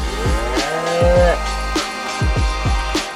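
A cow lows loudly and close by on a farm in Auvergne, France, with a long drawn-out moo followed by several shorter calls, and faint background noise throughout.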